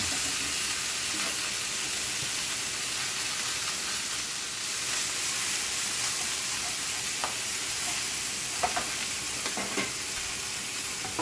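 Salmon fillet searing in a hot pan after the flip gives a steady, loud sizzle and crackle with a few small pops, no talking.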